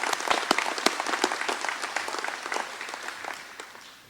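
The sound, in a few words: audience applause at annual meeting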